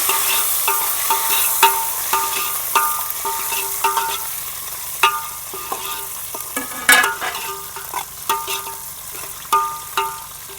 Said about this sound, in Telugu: ఇవి మంచిగా ఫ్రై కావాలి